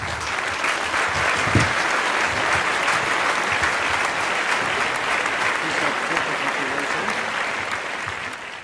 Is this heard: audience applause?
yes